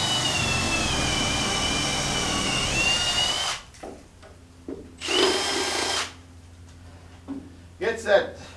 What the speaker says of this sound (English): wood stuck in the end of this, and then it doesn't like to drill